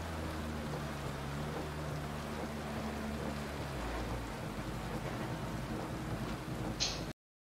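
Heavy rain pours continuously inside the rally car in Dirt Rally 2.0 on a Welsh stage, a dense steady hiss under a low engine rumble, ending abruptly.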